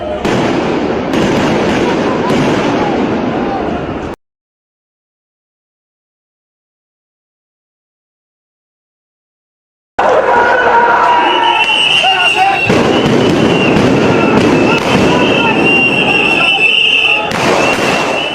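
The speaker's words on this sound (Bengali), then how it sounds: "জবাবে আসে গুলি আর সাউন্ড গ্রেনেড।" Gunfire and sound grenades at a street crackdown, sharp blasts and cracks amid crowd noise, loud in two bursts separated by a stretch of silence, with voices in the mix.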